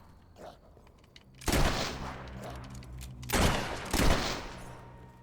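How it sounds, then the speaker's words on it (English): Gunshots in a video game as people are shot, a few quiet pops followed by two loud, close bursts of rapid fire separated by a pause, with a low hum underneath. "Excuse me while I shoot people."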